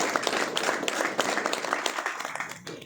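A crowd claps together at a gathering, dense steady applause from many hands, fairly near and sustained before tapering slightly at the end.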